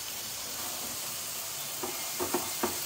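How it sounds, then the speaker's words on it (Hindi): Onions fry in a pan with a constant loud sizzle and hiss, and a few soft stirring scrapes come near the end, close by with no talking. "let's give this a good mix और हमारे अनियंस ऑलमोस्ट डन हो गए हैं"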